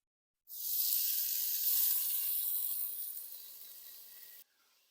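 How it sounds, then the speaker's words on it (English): Bacon sizzling and rendering its fat in a soup pan, a sudden steady hiss of frying that holds for several seconds, then cuts off abruptly. "So we are cooking our bacon in our soup pan and we are rendering the fat"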